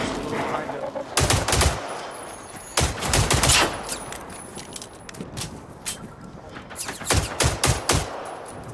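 Gunfire in the Generation Zero video game, several rapid automatic bursts of close, loud shots in three clusters, separated by quieter stretches of ambient game sound.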